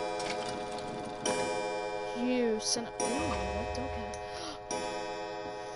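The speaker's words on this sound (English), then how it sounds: "Well, clock pendulum!" A clock pendulum ticks in the video game Resident Evil 7, a steady, regular tick-tock heard close and clear beneath game sounds and a brief spoken remark.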